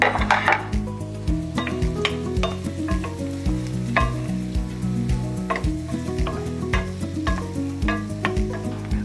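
Brussels sprouts sauteing in a pan with onions, a steady close sizzle broken by repeated clacks of a utensil stirring against the pan in an irregular rhythm, with no talk.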